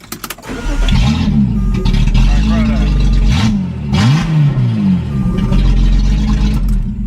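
A Datsun 280Z junkyard car's engine restarts and runs with loud, rising and falling revs, up close and steady for several seconds.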